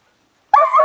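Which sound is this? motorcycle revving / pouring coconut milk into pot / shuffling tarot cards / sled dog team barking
sled dog team barking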